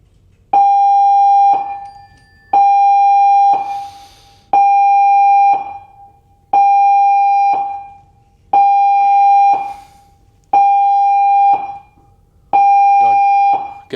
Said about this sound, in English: Attention all on board. The general emergency alarm.